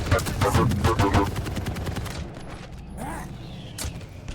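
Rapid bursts of machine gun fire from an online multiplayer video game ring out loudly for about two seconds, then fade into quieter game ambience with scattered mechanical clicks.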